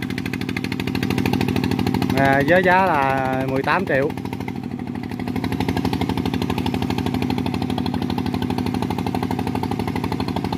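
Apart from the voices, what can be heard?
Kubota RT100 engine running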